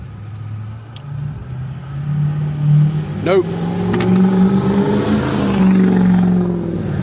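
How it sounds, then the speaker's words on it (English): A heavy engine rumbles and builds as a very loud truck passes close by in a small town outside Charlotte, North Carolina, with a brief spoken word near the start. "That was a very, very loud truck."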